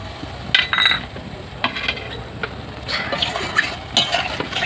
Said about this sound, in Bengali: এবার আমি পেস্ট করে রাখা মশলাটা দিয়ে দেবো, ভালো করে কষিয়ে নেব।